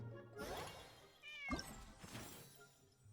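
Cats meow in the game Genshin Impact, with two or three clear, close mewing calls in a quiet setting.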